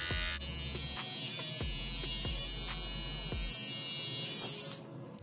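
An electric hair and beard trimmer buzzes up close in steady bursts switched on and off several times, a mid-level hum broken by short clicks, with no talking.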